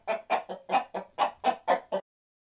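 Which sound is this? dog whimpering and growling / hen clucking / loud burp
hen clucking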